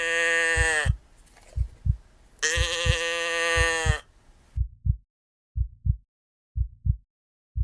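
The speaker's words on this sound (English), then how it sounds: "they make the noise of a cow" A cardboard cow-noise toy tipped upside down gives two drawn-out, bleating moos close by. Soft rhythmic thumps follow as it settles.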